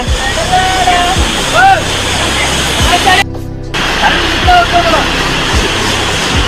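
Honnamma Devi Falls in Chikkamagaluru roars as a loud, constant rushing wash, with voices speaking over it and a brief dip partway through.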